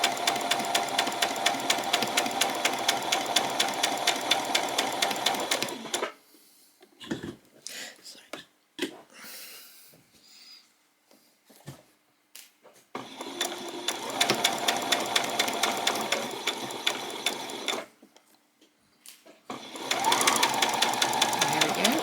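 A home sewing machine stitches a peasant top in steady loud whirring runs, pausing between seams for quiet handling noises and speech, then starting up again.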